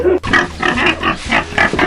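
A human voice imitates a pig with a series of short, nasal, snorting grunts in quick rhythmic bursts, close and fairly loud.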